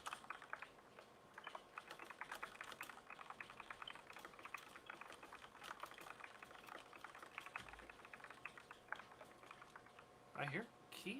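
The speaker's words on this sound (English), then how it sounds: "I hear keys." Faint, quiet typing on a computer keyboard with rapid, steady key clicks throughout, and a voice briefly speaking near the end.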